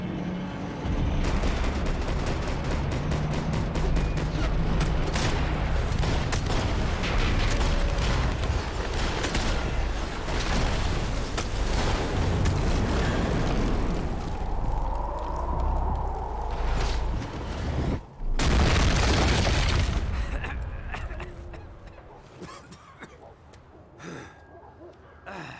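Gunfire in a Max Payne 3 shootout, dense bursts of rapid shots and impacts running almost continuously at close range, with shouting voices mixed in before a loud final burst and fade.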